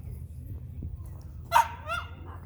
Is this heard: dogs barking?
yes